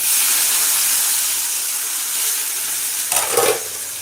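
Onions, both big and small, fry in a pan with fennel seeds, dried red chillies, curry leaves and salt for sambar rice, giving a steady, even hiss that runs on alone with no voices.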